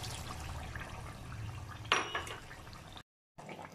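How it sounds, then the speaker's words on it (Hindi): A cup of water is poured into a cooking pot of meatball (kofta) curry with frying ginger, making a short splashing burst partway through over quiet kitchen background noise. "अब हम 1 कप पानी ऐड कर देते हैं।"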